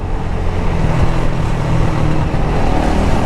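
A motorcycle engine running steadily and loud while the rider moves through the gears, a continuous close drone with a dense low rumble that holds level throughout.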